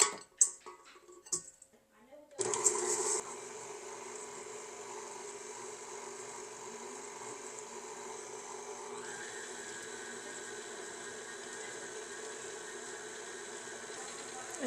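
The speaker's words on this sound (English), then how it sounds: "we're going to cream together our butter and brown sugar" Butter and brown sugar are creamed together in a bowl with an electric mixer. A few clinks and handling noises come first, then a steady, even mechanical whir runs on without a break.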